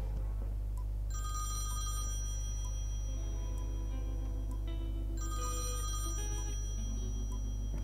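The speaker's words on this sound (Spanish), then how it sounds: "Llaman por teléfono." A telephone rings twice in the Thimbleweed Park adventure video game, two bright ringing bursts about four seconds apart over a steady low background hum.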